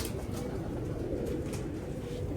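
Pigeon cooing close by, soft and low-pitched, with a steady muffled murmur and no talk over it.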